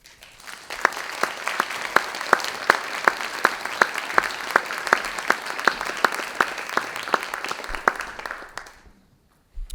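An audience applauds at an evening event at Texas A&M's Bush School to welcome a speaker, dense sustained clapping that holds for about nine seconds, then drops quickly to silence.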